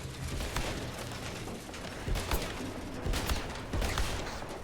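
Gunfire in the video game First Light, a few sharp cracking shots scattered over a busy, dense game soundscape, with no talk.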